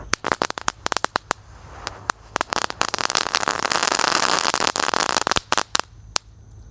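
Telur dino firecrackers crackle off in a long, dense run of sharp pops and snaps, loud and close, bursting irregularly at first, then merging into a continuous fizzing crackle before scattered final bangs.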